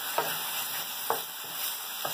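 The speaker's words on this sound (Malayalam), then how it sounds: "അതായത് എണ്ണ തെളിഞ്ഞ് വരുന്നവരെ നമ്മൾ സോട്ട് ചെയ്യണം" Chole masala sautes in hot oil in a pan, a steady close sizzle broken by three evenly spaced scrapes of a spoon stirring, with no talking.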